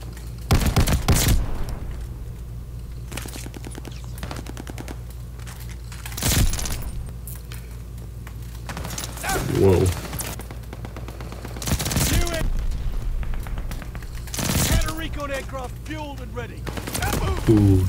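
Rapid bursts of machine pistol fire with a fire-rate attachment in the Call of Duty: Vanguard shooter game, loud and close, repeating in several fast automatic volleys with short gaps and scattered game effects between them.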